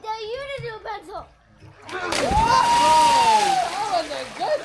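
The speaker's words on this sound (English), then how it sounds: "Oh, and a good splash." People splash into a swimming pool: a big burst of water around two seconds in, followed by lingering sloshing and splatter, with children's voices and excited talk before and over it.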